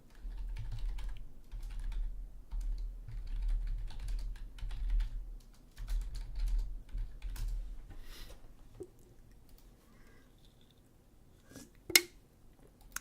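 Rapid clicking keystrokes on a computer keyboard, close and fairly quiet, in uneven bursts that taper off, ending with a sharp loud click.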